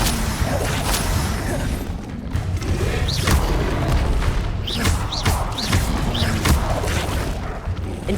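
Incendio fire spell blasts in Hogwarts Legacy, a series of whooshing bursts and thumping impacts over a dense, busy combat mix that stays loud throughout, with no talking.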